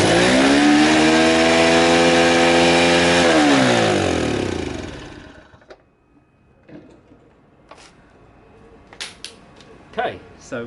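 A Honda C90 project motorcycle with an ailing carburetor and a fuel leak runs at a loud, steady idle close by for several seconds, then dies away. Scattered light clanks and handling noises follow in the quiet.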